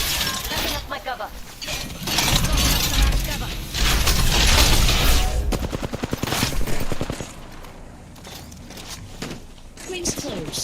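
Bursts of automatic gunfire and reloading clatter from an Apex Legends match, loud and repeated in rapid volleys over game effects, with a voice talking throughout.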